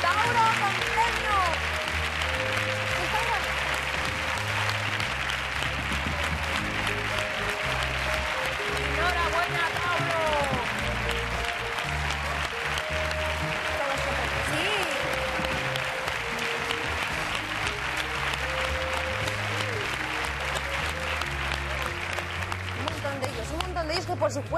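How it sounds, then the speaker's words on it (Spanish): Studio audience on the Spanish game show Un, Dos, Tres applauds steadily and loudly throughout, with cheering voices and music-like tonal lines running under the dense clapping. "¡Todos arriba y un aplauso!"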